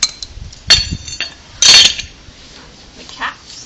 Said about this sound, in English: the caps that go on those screws that you just put in. And they just pop right on in there.